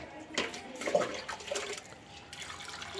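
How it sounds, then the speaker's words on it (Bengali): Soaked lentils being washed by hand in water, with splashing and sloshing bursts that come and go close by over a steady wet background. "দেখুন কীভাবে জল দিয়ে বারবার ওটাকে পরিষ্কার করা হচ্ছে"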